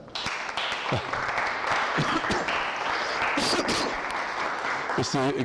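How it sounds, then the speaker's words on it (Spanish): Audience applause at a public talk on Maya astronomy and the end of the world, a dense steady patter filling the room at moderate loudness, with a voice briefly rising near the end. "Un fuerte aplauso."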